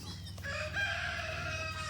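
A young rooster on a farm crows once, a clear drawn-out call at moderate distance over a faint low background hum.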